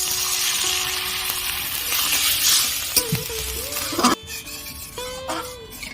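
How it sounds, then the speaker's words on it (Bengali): Spices for potato chop filling are being fried in a pan with a splash of water. The pan sizzles steadily at first, then a utensil stirs and clinks against the metal in a few short bursts. "এবার মশলাগুলো আমি ভালো করে কষিয়ে নেব।"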